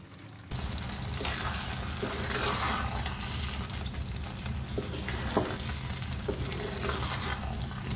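Matar paneer sizzles and bubbles steadily in a pan over a medium flame, a constant close frying hiss with faint occasional clinks, no voices.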